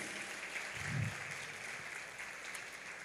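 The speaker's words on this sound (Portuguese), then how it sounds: "Uma salva de palmas a todas as mamães" Faint, distant applause from a church congregation at a Mother's Day service, steady and even throughout, with a soft low thump near the start.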